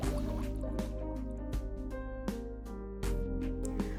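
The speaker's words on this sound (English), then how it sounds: "So we'll pour it in and give it a good mix until it's completely melted." Cloud Theory Vanilla Bean marshmallows being stirred as they melt in a pot, giving a close, sticky, squishy churning with soft irregular drips and clicks and no talk.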